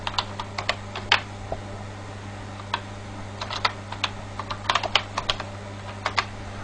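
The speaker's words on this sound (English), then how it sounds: "if we type localhost in here" Keys on a computer keyboard clatter in quick irregular bursts of taps, close and fairly crisp, with a steady low electrical hum underneath and no voices.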